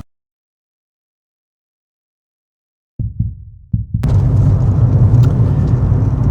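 A car starts and pulls away: a brief engine crank and rumble after a long silence, then a steady, loud engine drone as the car drives, with no speech.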